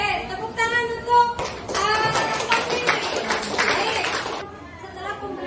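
Students in a classroom clap together in a dense three-second burst that starts abruptly and stops cleanly, surrounded by chatter and a voice before and after.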